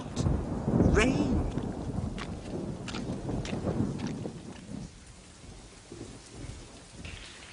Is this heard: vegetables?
no